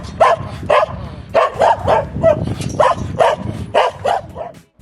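A dog barks from behind a front-yard gate in San Joaquín de Flores, Costa Rica, giving a quick series of loud, close barks in short bursts with brief pauses between them.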